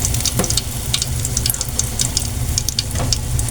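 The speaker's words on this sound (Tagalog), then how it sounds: "hanguin na natin itong ating unang batch ng ating prito" Fresh tiny shrimp (alamang) batter fritters fry in oil, giving a close, steady bubbling sizzle with scattered sharp crackles and pops throughout.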